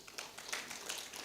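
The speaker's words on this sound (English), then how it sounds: "We should clap for that one." Scattered audience clapping at a Uganda diaspora convention: a handful of hands patting in quick, faint bursts spread across a little over a second, sounding distant and thin in a large hall.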